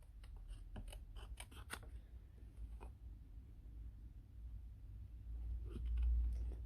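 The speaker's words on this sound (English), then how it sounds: "I'm just going to cut him out roughly so I don't have so much paper." Scissors snip through paper while roughly cutting out a lion shape for a birthday card, a quick run of crisp close cuts early on, then sparse faint snips over a low room hum.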